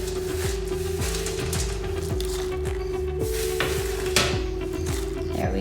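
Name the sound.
caramelized almonds added and stirred in pan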